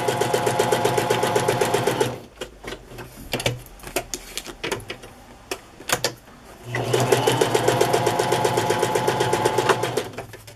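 Sewing machine stitching a fabric collage onto paper runs in a fast, steady mechanical chatter, pauses for a few seconds of scattered handling clicks, then starts up again, loud and close.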